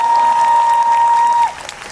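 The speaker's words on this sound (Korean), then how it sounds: "다시 한번 조선의 복서팀한테 큰 박수 부탁드리겠습니다" Audience clapping at an outdoor fringe festival stage on a rainy day in Daehakro, steady and dense under a sustained electronic tone that cuts out near the end, leaving thinner scattered claps.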